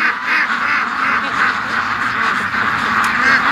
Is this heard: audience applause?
no